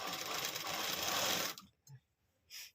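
Sewing machine stitching the folded lining of a readymade top, a steady close whirring run of about one and a half seconds that stops, followed by two brief faint mechanical clicks.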